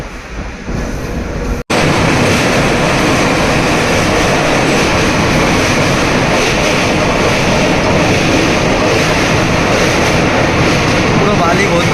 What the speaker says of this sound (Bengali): সবে ভুবনেশ্বর থেকে ট্রেন ছাড়লো।